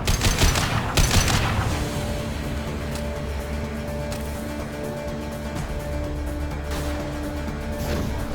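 A high-impact gunshot in the video game Mass Effect 2, with heavy loud blasts at the start, then sustained combat noise and scattered shots over a steady hum. No one speaks.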